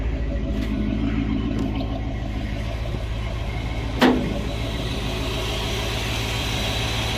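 Steady idle of a 1970 Dodge D100 V8 after a cam swap, running smooth with a low continuous rumble, near and alone, with a brief louder click or thump partway through.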